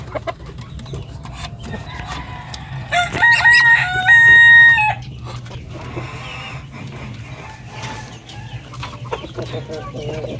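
Darag chickens clucking on a farm, with a rooster giving one loud, close crow in the middle and scattered clucks and calls continuing around it.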